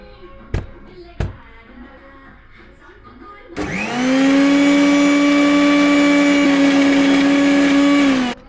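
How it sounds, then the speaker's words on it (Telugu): A kitchen mixer grinder blending soaked ingredients with added water, starting with a couple of sharp clicks, then spinning up into a loud, steady, high-pitched whir that runs for several seconds before stopping. "ఇందులో కొన్ని ఇలా వాటర్ వేసేసుకొని మనం మళ్ళీ మిక్సీ పెడదాం."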